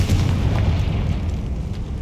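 In the Hogwarts Legacy video game, a Confringo spell detonates in a decaying catacomb, giving a loud, deep booming blast with a rumbling tail that fills the full two seconds.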